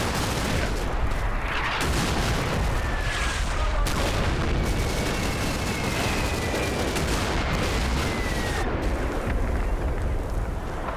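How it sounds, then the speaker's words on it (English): Mortar fire and other weapons in the Normandy combat game Combat Mission: Battle for Normandy form a dense, continuous barrage of booms and rumbling detonations, loud and sustained, with faint whistling tones drifting through. "That's some mortar here."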